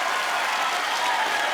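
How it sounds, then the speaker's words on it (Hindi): Loud, steady applause from a television comedy show audience welcoming guests Arbaaz Khan and Sohail Khan fills the whole stretch as one dense, continuous clapping roar with no talk over it. "जोरदार तालियां।"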